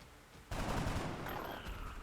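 Sudden burst of rapid gunfire in the video game XCOM: Enemy Within, a dense rattling volley that opens abruptly after quiet and keeps going loud, with faint ringing tones layered in.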